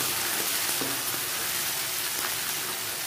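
Small chopped onions frying in a pan as chopped tomato goes in for a garlic curry, a dense, even sizzle with faint stirring bumps, close and continuous, no voices.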